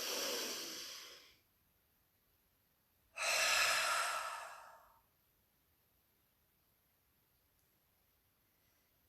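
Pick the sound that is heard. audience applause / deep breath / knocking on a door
deep breath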